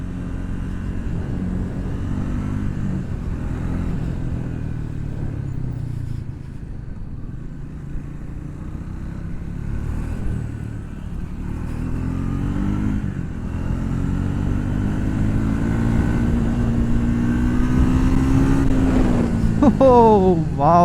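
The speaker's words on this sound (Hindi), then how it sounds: "आइडल पे साउंड इसका ऐसा है। अब थोड़ा सा रेव करते हैं।" A Triumph Speed 400 motorcycle (MY25) idles with a deep, steady thump, then revs and pulls away into riding, its engine note rising toward the end; someone talks over it at times.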